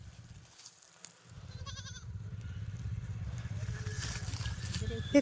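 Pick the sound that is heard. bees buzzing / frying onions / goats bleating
goats bleating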